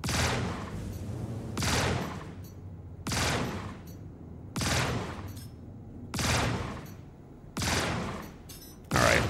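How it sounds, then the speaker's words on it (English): Shotgun blasts from a weapon in the space game Star Citizen, seven heavy, booming shots fired at an even pace about every second and a half, each a loud burst that fades quickly, with no talk. "When I have power to weapons, I have basically like unlimited shotgun shots."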